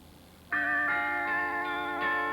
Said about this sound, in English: they've synthesized carillon tunes with both the minor and major overtones. This is the minor.